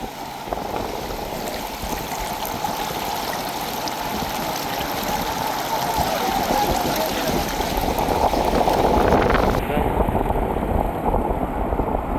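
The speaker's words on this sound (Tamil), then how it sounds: "பாருங்க முன்னுக்கு எப்படி தண்ணி பாய்ஞ்சோன்ட்டு இருக்கோண்டு" Floodwater rushing fast after a cyclone across flooded ground in the Vanni region of Sri Lanka, a loud continuous churning roar with wind buffeting the microphone and a sudden change in tone near the end.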